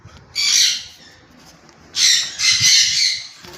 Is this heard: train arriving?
no